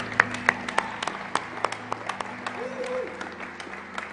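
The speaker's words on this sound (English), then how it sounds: "Let's clap because it's God's word." A church congregation claps during a sermon, with sparse, irregular hand claps ringing out in a reverberant room and a soft crowd murmur beneath them.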